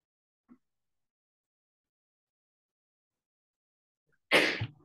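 A person gives a single sharp, close sneeze near the end, after a tiny faint sound and a long stretch of near silence.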